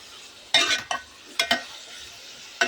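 Tomatoes being stirred in a frying pan with ginger, a low background sizzle punctuated by a few brief scraping and clattering strokes of a spoon, close and fairly loud, no talking.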